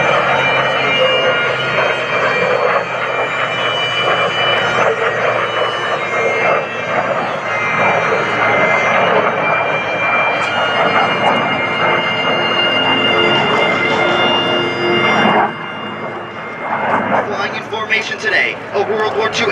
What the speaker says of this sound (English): Today, a World War II era P-51 Mustang